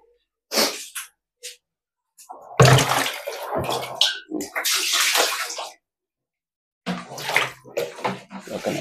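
Water pours and splashes in short loud bursts while a bathroom is cleaned, close by, with brief gaps of silence between the gushes.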